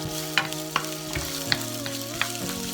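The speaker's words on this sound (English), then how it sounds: "In go the onions. Stir these around a bit before I add the garlic." Onions fry in a pan with a constant sizzle. Four crisp taps of a utensil against the pan sound as they are stirred, close and with no talking.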